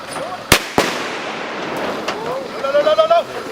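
Gunshots on a firearms training range during weapons-handling review practice: two sharp, loud cracks in quick succession, then a fainter distant shot, followed by excited shouting voices.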